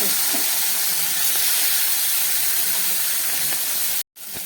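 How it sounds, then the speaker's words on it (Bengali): Fish frying in hot oil in a kadai produces a loud, dense, steady hiss that fills the space, then breaks off in a sudden brief gap near the end. "তেলটা গরম হয়ে গেছে, মাছ ভেজে নিচ্ছি।"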